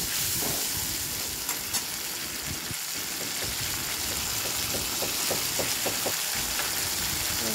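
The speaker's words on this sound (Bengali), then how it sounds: "এবারে মশলাটা দিয়ে ভালো করে কষিয়ে নেব।" Spice paste (masala) fries in a pan while shukto is cooked, with a steady close sizzle and hiss throughout and occasional faint stirring clicks, and nobody speaks.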